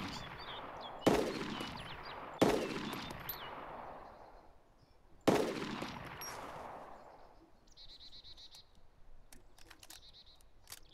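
Three sharp gunshots from a video game, DayZ Epoch, crack out at irregular intervals, each trailing off in a long echoing decay, followed by fainter high electronic tones and small clicks near the end.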